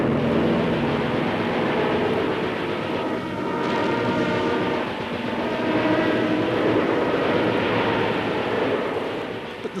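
WWII bomber and fighter aircraft produce a loud, continuous, droning roar with a steady tone, heavy and sustained for the whole stretch, with no voices.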